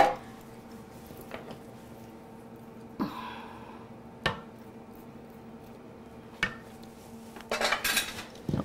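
Bowl of banana bread batter tapped against a sink, giving a few sharp knocks spaced out over several seconds and then a quick cluster of clatters near the end, with quiet background between.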